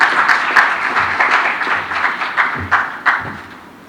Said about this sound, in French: Merci de bien vouloir l'applaudir chaleureusement